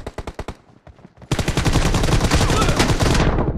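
Gunfire in PUBG Mobile, a handful of sharp separate shots, then a dense, loud automatic burst of rapid rounds that runs for a couple of seconds before cutting off.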